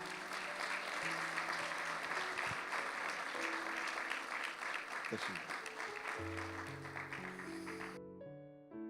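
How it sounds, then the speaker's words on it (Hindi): A church congregation claps during a child's dedication service, a full wash of applause under faint background music and speech, cutting off abruptly near the end as sustained keyboard tones carry on. "तालियां बजा दें जी"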